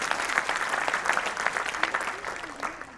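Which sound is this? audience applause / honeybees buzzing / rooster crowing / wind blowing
audience applause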